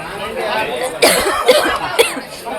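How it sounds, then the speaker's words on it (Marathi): Several sharp coughs in quick succession amid background chatter, loud and close, clustered in the second half. "बर्फाचं नाव ऐकून खोकला आला."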